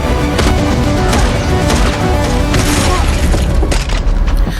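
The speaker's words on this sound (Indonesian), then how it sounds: "aksi tembak-tembakan pun terjadi" Loud, continuous barrage of booming shots and impacts layered over a dense, churning action-movie soundtrack, with sharp bursts recurring throughout.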